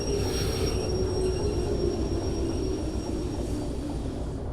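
Train in the Derail Valley simulator braking to a stop on a long loading track, with a steady loud low rumble of wheels on rail and a thin high squeal running throughout, alone without talk.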